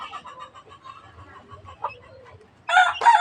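Chickens cluck softly and steadily, then a rooster crows loudly and close by near the end.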